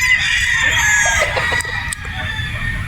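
A Sweater Boston rooster crows loudly and close up, one drawn-out harsh call with a few clucks and clicks around it, and no talking.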